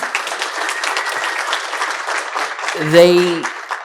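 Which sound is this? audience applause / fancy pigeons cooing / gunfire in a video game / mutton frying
audience applause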